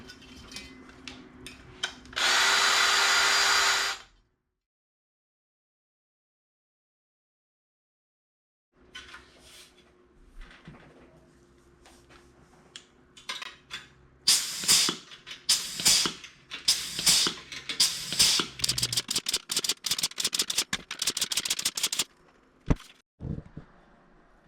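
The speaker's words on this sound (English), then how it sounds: "So I'm going to countersink these" A countersink drill bit cuts into rivet holes on aluminium seat ribs of a Van's RV-7A aircraft kit, giving a loud burst of whirring early on, then silence, then many short, sharp grinding spurts in quick succession.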